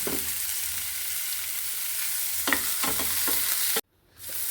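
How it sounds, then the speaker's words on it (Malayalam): Ginger, green chili, garlic and curry leaves are sautéed in a hot pan, giving a close, continuous frying sizzle broken by a few light stirring knocks, then a sudden break. "ഇതിലേക്ക് ഇഞ്ചി, പച്ചമുളക്, വെളുത്തുള്ളി, കറിവേപ്പില എന്നിവ ചേർത്ത് നന്നായി വഴറ്റിയെടുക്കാം"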